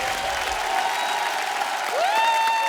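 A studio audience applauds a music director duo at a Hindi television comedy show, a steady wash of clapping with a few rising musical tones in the background.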